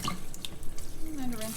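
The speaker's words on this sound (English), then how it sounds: "Take the corn and drain it and rinse it." Tap water runs briefly over drained canned corn in a kitchen sink, a short close splashing trickle with light drips.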